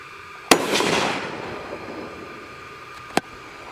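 A gunshot fired through a see-through suppressor gives a sharp crack followed by a hissing, rushing burst that fades over a second or two, then a second brief crack occurs a couple of seconds later.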